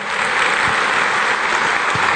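A church congregation applauding during a sermon, producing a dense, steady wash of clapping that holds loud and even throughout without pause.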